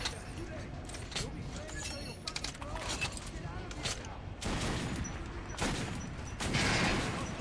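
Rapid bursts of gunfire from the video game Metro Last Light Redux, played on PC, crackle in clustered volleys that grow louder toward the end, with someone talking over much of it.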